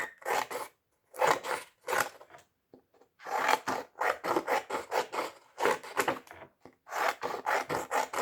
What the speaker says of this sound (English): so we'll cut a few more strips